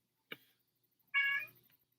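A pet cat meows twice indoors: a short, sharp first call, then a longer, louder drawn-out meow a moment later, with quiet between and no talking.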